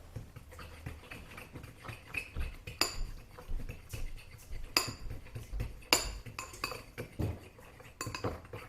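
Cauliflower and milk get mixed in a bowl with a metal utensil, making repeated clinks and scrapes against the dish in an uneven rhythm, close and fairly quiet, with no voices.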